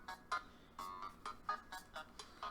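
A phone ringtone chimes in a quick repeating pattern of short bright tones, faint and close, with no talking over it.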